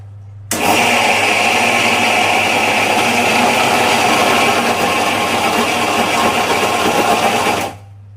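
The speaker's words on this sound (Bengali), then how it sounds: "তো এটাকে আমি একটু ব্লেন্ড করে নিচ্ছি।" A blender grinds soaked mixed lentils into a thick paste, a loud, steady motor whine starting abruptly, holding evenly for about seven seconds, then cutting off.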